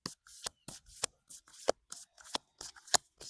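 Tarot-style cards being shuffled for a card reading, a series of crisp riffling snaps and soft slides in an irregular rhythm, close and quiet with no talk.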